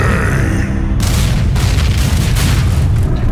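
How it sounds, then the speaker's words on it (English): A large cinematic explosion booms loud and close, with a deep rumbling roar that lingers under scattered bursts of debris and crackle. "giant explosions happen for no reason"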